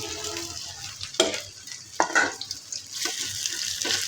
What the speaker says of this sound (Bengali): মাছটা আমি আলগে একটু বাজিয়ে নিতেছি